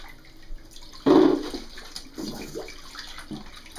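Water splashes in a big bathtub as a baby is bathed, with a loud burst of sloshing near the start followed by softer intermittent splashes close by.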